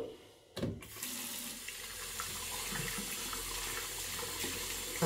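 Tap water runs steadily into a sink to wet the face before a shave, a continuous close splashing hiss that holds alone for about five seconds.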